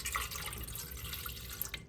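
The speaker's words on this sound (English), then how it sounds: "you need 1 cup of warm water" Warm water, one cup, pouring into a bread machine pan in a home kitchen: a steady close trickle with light splashing that runs continuously for a couple of seconds, with no voices.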